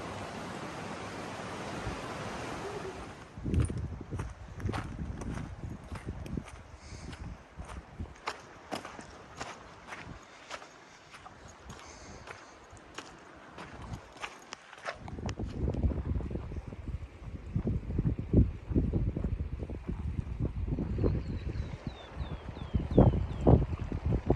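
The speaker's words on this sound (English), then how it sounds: "We're literally just walking through the waterfall right now." Hikers on the Hayduke Trail wade through a waterfall: rushing, splashing water with wind buffeting the microphone and repeated footsteps crunching and sloshing, the water growing louder and more churning in the second half.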